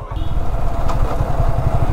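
A Yamaha R15 V3 motorcycle engine rumbles steadily while riding on a village road, loud and close with a continuous low throbbing note and wind noise, no talking.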